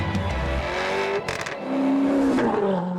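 Alfa Romeo 8C sports car engine on an open road, a throaty note that rises and falls through several revs and gear changes, close and loud with no talking.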